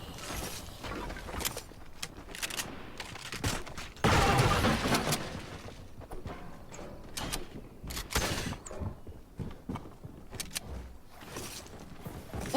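Gunfire in a shooter video game, repeated sharp shots and bursts with mechanical clicks scattered across the stretch, a louder cluster near the middle, no talk over it.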